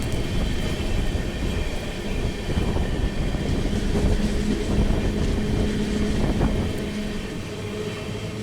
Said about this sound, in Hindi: कोई स्पेशल ट्रेन निकल रही है।